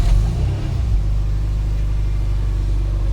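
A car engine holds a loud, deep idle rumble, with a swell of revving at the start before settling into a steady drone, throttle worked by a cheap homemade gas pedal.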